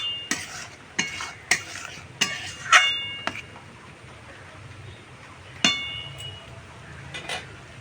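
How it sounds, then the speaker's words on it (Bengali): Fried rice mixture being sautéed in a pan with sugar added, a spatula scraping and clinking against the metal in sharp irregular strokes over a faint steady sizzle, with no talking. "আর একটু কষিয়ে নেবো এটা ভালো করে"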